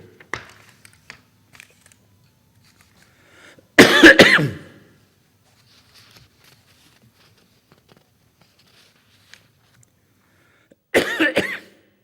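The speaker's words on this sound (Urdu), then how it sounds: "کھانسی ایک دفعہ چھڑ جائے تو تھوڑی سا تو وقت لیتی ہے ٹھیک ہونے میں" Two loud bursts of coughing, several seconds apart, close to the listener, with near silence and faint rustling in between.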